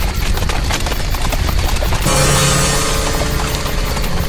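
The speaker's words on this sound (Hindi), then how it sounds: "वो पास के ही गांव के घोड़े हैं" Horses from a nearby village clip-clop, their hooves beating a dense, continuous rhythm that swells louder partway through, with no speech over it.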